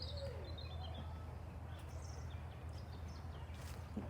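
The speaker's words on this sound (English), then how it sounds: "You can hear all the bird song." Birds call and chirp outdoors across a large piece of land, with faint scattered high tweets over a steady low background hum, no talking.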